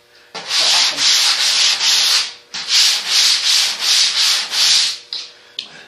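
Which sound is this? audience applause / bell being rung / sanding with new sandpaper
sanding with new sandpaper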